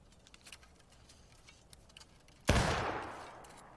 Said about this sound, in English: Ripple fire from the left with 2 more shots.